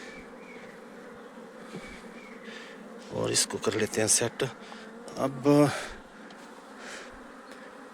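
A newly caught honey bee swarm being settled onto frames in a hive hums with a steady, close insect buzz, while someone talks over it in Hindi.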